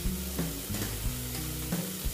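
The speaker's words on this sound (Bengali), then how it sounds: "এই দেখো মশলাটা ভাজাও হয়ে গেছে, আর দেখো একটু তেলও বেরিয়ে এসছে।" Spice paste sizzles steadily in hot oil while cooking pomfret curry (macher jhal), with soft stirring scrapes recurring through the close, moderately quiet frying.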